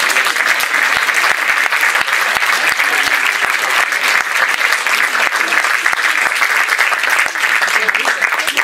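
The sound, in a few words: theatre audience applause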